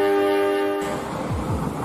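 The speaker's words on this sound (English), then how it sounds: "After that, they went home by train." A train passes with a loud sustained horn blast that cuts off partway through, followed by rumbling rail noise that carries on steadily to the end.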